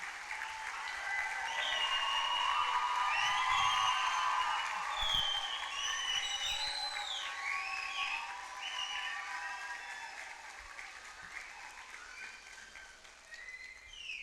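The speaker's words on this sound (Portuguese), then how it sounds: "Agradeçam, batam palmas, façam barulho." A graduation ceremony audience claps and cheers, a dense, sustained wave of applause swelling early then easing gradually, with shouts and whistles rising above it throughout.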